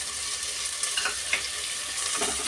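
Tomato, pigeon peas and green peas frying in oil for pulao, a steady broadband sizzle with faint stirring scrapes, close and continuous with no talking.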